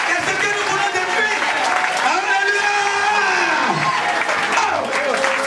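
Church congregation applauding and cheering in praise during a French-language testimony service, a sustained crowd wash of clapping and shouts blended with a prominent voice throughout.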